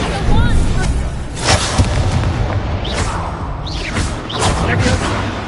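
Incendio fire spell cast in the video game Hogwarts Legacy, with loud booming bursts and whooshing blasts over a dense, noisy combat backdrop.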